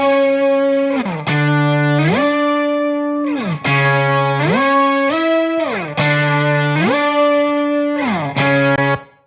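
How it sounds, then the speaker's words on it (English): A heavily fuzz-distorted electric guitar plays sustained, buzzy notes that slide between pitches, loud and saturated, in long phrases broken by brief gaps, with no one talking. "So it is adding a bit of like bite to the guitar and kind of like giving it a little bit more presence"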